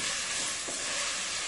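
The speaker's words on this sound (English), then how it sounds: "You want to fry your sausage on nice high heat." Sausage frying in a pan on high heat gives a steady, loud broadband sizzle and hiss that fills the whole moment without pause, with no talking over it.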